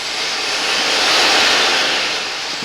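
Steady, loud engine roar with a broad rushing hiss that swells slightly and then eases, from a Mercedes Sprinter van's 2.1-liter four-cylinder diesel idling nearby, with no voices.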